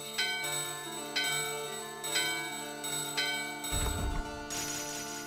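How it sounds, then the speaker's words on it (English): A bell ringing in Final Fantasy IX, about five bright, evenly spaced strikes roughly a second apart, each with a long shimmering ring, followed by a brief low rumble near the end. "Let's ring the bell."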